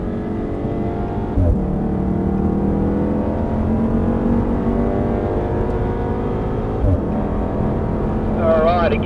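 A Volkswagen car accelerates out of a corner on a driving course, its engine note climbing steadily and loud from close inside, with a brief voice near the end.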